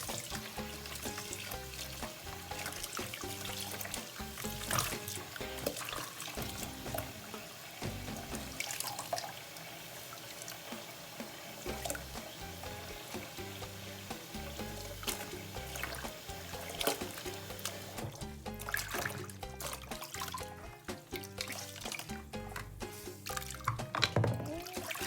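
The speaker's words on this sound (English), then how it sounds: "you are going to wash this 3 times" A washable fabric face mask is hand-washed in water, with steady splashing, sloshing and dripping that run for the whole stretch alongside a busy background of other sound, and no talking.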